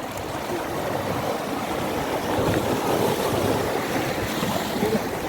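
Seawater washes in and splashes near the shore by the Bandra sea link, a steady, loud rushing roar mixed with wind buffeting the microphone.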